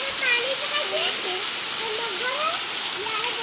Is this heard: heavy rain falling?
yes